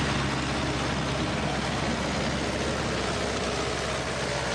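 A homemade tracked all-terrain vehicle, built in Eskişehir from mechanical parts and resembling a tank, runs with a steady, loud, droning engine that holds unbroken throughout.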